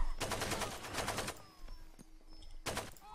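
Far Cry 2 video game gunfire arrives in rapid automatic bursts: two long volleys, a short pause, then another burst. The shots are fairly quiet and sound a little distant.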